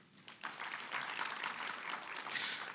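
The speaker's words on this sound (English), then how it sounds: "Let's give a good round of applause." A conference audience gives a burst of sustained applause, dense and steady throughout.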